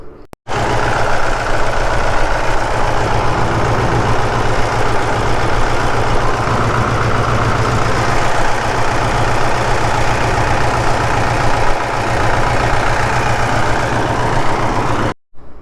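A tractor engine idles steadily with a loud, close, low rumble that runs unbroken for about fifteen seconds before cutting off abruptly; fish and chips are cooking on its exhaust manifold.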